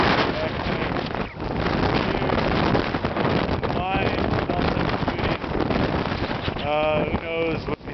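Strong wind during a Chicago blizzard buffets the microphone in a constant roaring rush, with a voice briefly heard under the gusts.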